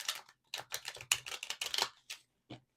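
Tarot cards are shuffled up close, giving quick crisp riffling clicks and flutters in short irregular bursts, then a few isolated taps, with no talking.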